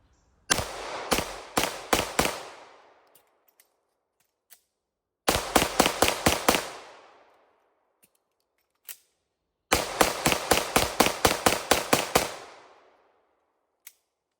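Sharp, loud shots from a SIG P365 FUSE pistol firing Blazer Brass 115 ammunition come in three rapid strings of about four to eight rounds each, with a few lone pops between them and quiet gaps separating the strings.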